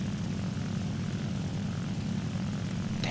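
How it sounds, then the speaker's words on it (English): Propeller planes in a combat flight video game drone steadily and loudly throughout, a dense engine roar with no clear pass-by, and no voices. "There's a lot of planes."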